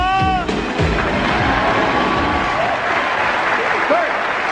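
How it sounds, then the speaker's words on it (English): A live magic-show audience applauds a volunteer called up for a rope trick. A voice is heard briefly at the start, then broad, steady clapping carries on to the end. "give Corey a big round of applause."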